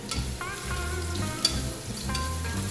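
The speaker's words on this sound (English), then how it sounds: "we're going to add the onions and saute them." Onions sautéing in hot olive oil, a steady close sizzle running throughout with a few soft spoon or pan clinks over the top.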